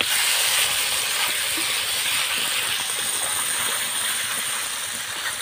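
Potato balls frying in hot oil give off a steady, dense sizzle that holds at an even level throughout, close and continuous with no voices over it.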